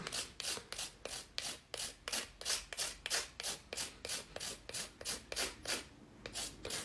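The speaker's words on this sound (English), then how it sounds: "you cure it in the lamp for one minute and then you rub your foil on top." Nail foil is rubbed onto cured foil gel in quick, even strokes, about three per second, each a soft close-up scratchy swish with no speech.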